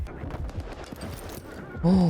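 Gunfire from the video game S.T.A.L.K.E.R. 2 sounds in a burnt forest as rapid bursts of muffled shots under a busy game soundscape. A brief loud tonal sound cuts in at the end.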